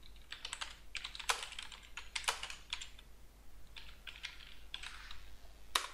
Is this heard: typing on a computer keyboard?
yes